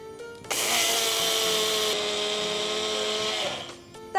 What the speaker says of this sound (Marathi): आपण हे पांढरे तीळ घेणार आहोत, ते एका मिक्सरच्या जारमध्ये टाकूया